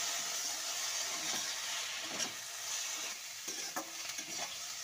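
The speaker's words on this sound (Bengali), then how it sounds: "টমেটো কেচাপটাকে দিয়ে আরও 3 থেকে 4 মিনিট এভাবে একটু কষিয়ে নিচ্ছি" Tomato ketchup stir-fried with chilli paneer in a pan for a few minutes, a steady close sizzle running throughout with occasional scrapes and stirring clinks.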